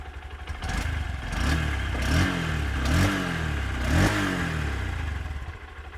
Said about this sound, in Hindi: और मैं आपको एग्जॉस्ट नोट सुना देता हूँ नई वाली का।